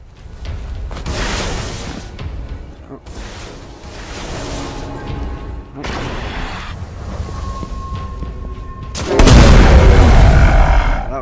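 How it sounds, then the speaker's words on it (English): A grenade in the video game Destiny, stuck to a back wall, goes off as a single loud, deep boom near the end, rising sharply over steady rumbling game ambience. "That was a lot easier with the grenade, you stuck it to the back wall."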